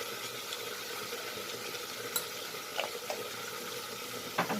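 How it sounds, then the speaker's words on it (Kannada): Garlic, ginger and tomato frying in a pan for butter chicken, a steady soft sizzle with a few brief stirring clinks, no voices. "ಬೆಳ್ಳುಳ್ಳಿ, ಜಿಂಜರ್, ಗಾರ್ಲಿಕ್ಕು, ಟೊಮಾಟೊ ಎಲ್ಲನೂ ಆ್ಯಡ್ ಮಾಡ್ತಾಯಿದ್ದೀನಿ."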